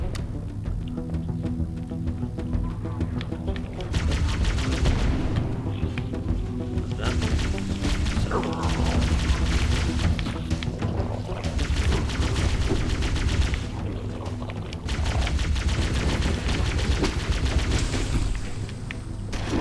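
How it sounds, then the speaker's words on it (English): Halo video game combat, with repeated rocket launcher shots and explosions booming in bursts over a constant rumble of gunfire and game noise. "Nuke him with the rockets."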